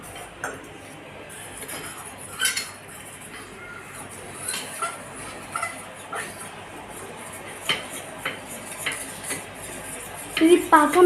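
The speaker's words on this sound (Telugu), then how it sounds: "ఇది ఉండలు కట్టకుండా కలుపుకోవాలి" A spoon clinks and scrapes in a pan while a halwa mixture with sugar is stirred, light irregular taps over a soft background, with faint talk nearby.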